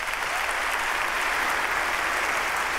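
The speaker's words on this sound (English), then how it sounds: "let's give them a round of applause." Church congregation applauding at a traditional worship service, steady hand clapping from a crowd throughout, moderately loud and even without a break.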